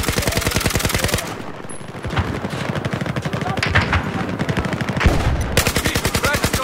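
Rapid, sustained machine gun bursts in a war video game, loud and close, with dense repeated shots through most of the stretch and a voice calling out under the firing.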